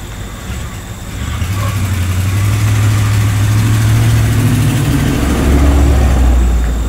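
An old Dodge truck with a 3/4 ton axle, 4.10 gears and automatic transmission, its engine built for low-end torque, runs steadily close by, a deep continuous idle with slight rises in revs and no talk.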